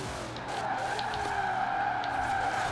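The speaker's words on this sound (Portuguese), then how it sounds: "Ele faz o drift praticamente sozinho." In the racing game Forza Horizon 4, a Ford GT40 drifts with a sustained, wavering tire squeal over its engine drone, heard close and fairly loud with no voices.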